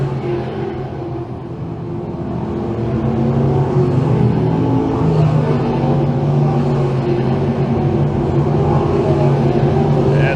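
Sprint cars race around the Can Am Speedway oval, a dense, continuous engine roar that swells louder as the pack comes past and holds steady at close range.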